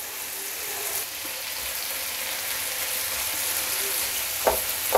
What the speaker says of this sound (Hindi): अब कीमे को भी अच्छी तरह से भून लेंगे